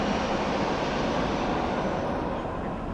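Embraer 175 airliner arriving at Amsterdam Schiphol from Stuttgart in hazy weather, a steady broadband engine roar heard from a distance, even and unbroken for the whole stretch, with no voices.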